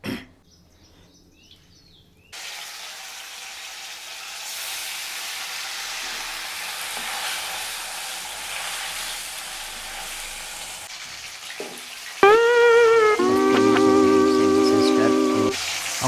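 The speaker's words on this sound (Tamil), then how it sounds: "நான் எண்ணெய் சட்டியிலேயே போட்டு போயிடலான் இருக்கேன்." Fish frying in a pan of oil gives a steady broadband sizzle that runs for most of the stretch. Near the end a louder tonal hum comes in over it.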